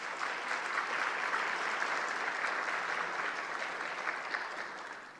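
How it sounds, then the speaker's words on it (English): A crowd at the 2013 State of Black Long Beach community event gives a round of applause, a steady, dense wash of clapping that holds for several seconds before easing slightly at the end. "So I want to just give you guys a round of applause."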